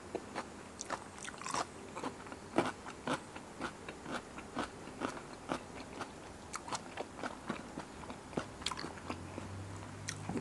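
Someone bites and chews crispy Thai braised five-spice pork leg, part of a 1.5 kg serving dipped in seafood sauce. Close, steady crunching bites and chewing repeat in a regular rhythm throughout, with no talking.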